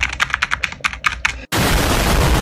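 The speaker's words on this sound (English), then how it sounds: "Now we actually have the keyboard. The keyboard is actually an Apex Pro Mini." Rapid clicky keystrokes on a small Apex Pro Mini keyboard, about a dozen close, crisp clicks in quick succession, then cut off by a sudden burst of loud broadband noise.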